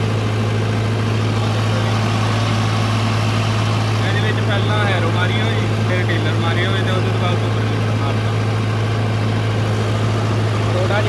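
A Mahindra Arjun Novo 605 CRDi tractor engine runs steadily at a low, constant drone with a cooling fan whirring, hooked to a Gurbaz 8 ft superseeder, loud and close throughout, with a faint voice partly audible over it.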